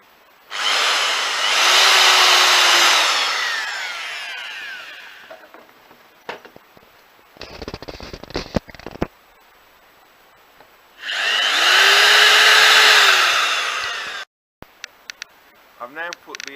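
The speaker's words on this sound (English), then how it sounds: "I just need to drill it so that we can put rivets through." Two long bursts of a power drill whining as it bores into a metal pipe, each a few seconds, separated by quieter clicks and handling noises.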